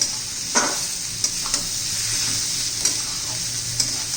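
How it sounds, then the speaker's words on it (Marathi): Cluster bean keema sautés in oil in a pan, a close, steady hissing sizzle with a few soft scrapes and taps of a spatula stirring, and no one speaking. "चांगलं मिक्स करूया परतून घ्यायचं चांगलं दोन तीन मिनटं तेलामध्ये"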